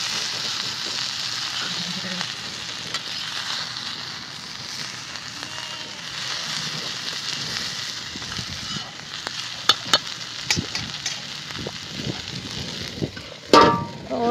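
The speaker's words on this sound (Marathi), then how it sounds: "कोथिंबीर टाकून परत असं खालीवर थोडंसं हलक्या हाताने हलवूनच घेते." Stuffed okra with coriander sizzles and fries steadily in a pan, with a soft continuous crackle and occasional sharper clicks and scrapes of gentle stirring toward the end.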